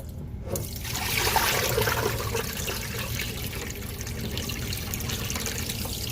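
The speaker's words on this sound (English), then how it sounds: "I advise you wash your rice nicely." Tap water runs steadily while rice is washed for party jollof rice, a continuous trickling and splashing stream that swells slightly early on, with no speech.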